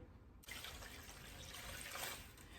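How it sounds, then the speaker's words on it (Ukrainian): Water being poured into a vessel for a mackerel marinade, starting abruptly as a continuous, close splashing trickle that holds steady until the end, with no talk. "Тепер додаю півтора літри води."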